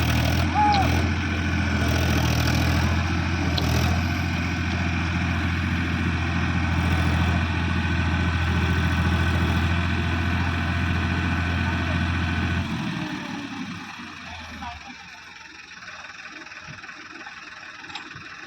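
A Farmtrac 60 tractor idling while stuck in mud, a loud steady low diesel throb that drops away after about twelve seconds, leaving quieter background noise.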